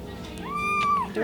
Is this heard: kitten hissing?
yes